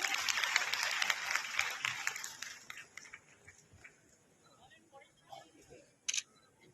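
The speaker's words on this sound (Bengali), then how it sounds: "একটু জোরে হাততালি হোক।" An audience at an award ceremony applauds, a loud wash of clapping that thins and fades over several seconds, with scattered claps and camera shutter clicks toward the end.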